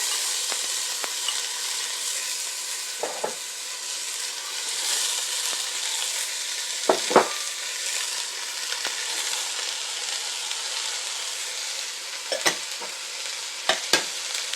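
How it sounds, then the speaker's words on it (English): Celery, onions, carrots and cabbage sauté in a pan for vegetable soup, giving a steady close sizzle with occasional scraping stirs and clicks of a utensil, and no voices. "these 4 things are going to go into the pan to saute"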